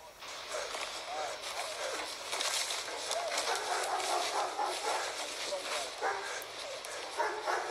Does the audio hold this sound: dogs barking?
yes